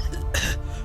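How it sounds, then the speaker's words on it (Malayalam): A man who quit cigar smoking gives a single short, rough cough, close and fairly loud, against a quiet indoor background. "അന്നേരം മുതൽ ഈ ചുമയും കൂടെ ഉണ്ട്."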